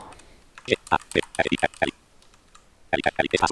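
Keys clack on a computer keyboard in quick bursts with a pause in between while Python code is entered, mixed with a person talking.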